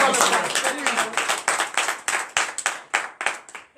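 Rhythmic acclamation clapping from a congregation at a morning prayer service in Benin, a brisk series of sharp, fairly close claps in a steady beat that slowly thins and weakens toward the end.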